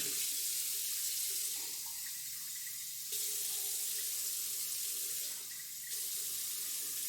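A kitchen faucet runs to measure a cup of water for cooking, a steady close hiss of flowing water that shifts in tone twice as the stream changes, with no talk.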